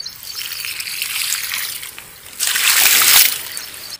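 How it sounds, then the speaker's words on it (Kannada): Water splashing onto the soil around a newly planted sapling on a farm, a close trickle that swells into a louder gush midway before tapering off. "ಈಗ ಈ ನಾ ಹಚ್ಚಿದ ಗಿಡಕ್ಕೆ ನೀರು ಹಾಕೋನು ಬರ್ರಿ"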